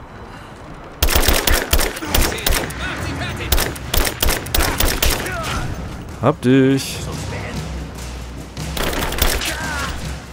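Rapid bursts of gunfire in the video game Rise of the Tomb Raider crackle in quick volleys, with a voice speaking briefly in German over the shooting.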